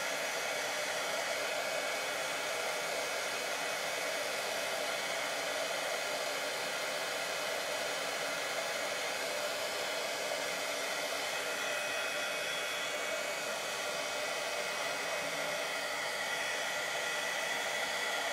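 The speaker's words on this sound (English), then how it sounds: "I'm trying to get my heat tool underneath" A heat tool blows hot air in a continuous, steady, close-up rush of hiss, unbroken and with no talking.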